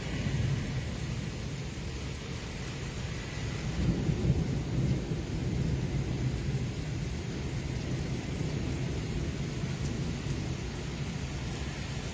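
A thunderstorm with steady rain pouring down, a constant dense hiss with a low rumble of thunder swelling briefly near the start, continuous and fairly loud with no voices.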